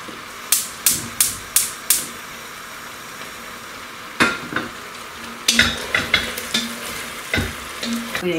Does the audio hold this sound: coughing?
no